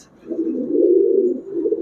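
Pigeons of the pallā line coo at a pigeon seller's, one steady low throaty coo swelling and holding for over a second, close and clear with little else around it.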